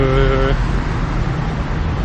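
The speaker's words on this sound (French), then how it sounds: "Donc il y a quand même pas mal de circulation" Dense road traffic on a large multi-lane street in Bangkok produces a loud, continuous roar close by, with a passing vehicle's tone fading early on.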